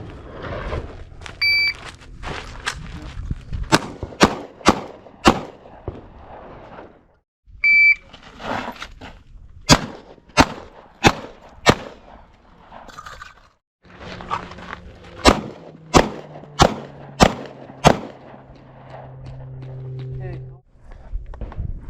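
Sharp gunshots from a church safety team's range drill ring out in quick clusters of four, loud and close, with electronic timer beeps and brief talk between strings of fire.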